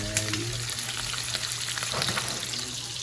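Bacon frying in a pan gives off a steady, close sizzle and crackle, a dense hiss that runs evenly from start to finish with no talking over it.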